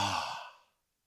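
A single deep exhalation, a close and fairly loud sigh that tapers off and fades to silence within about three quarters of a second.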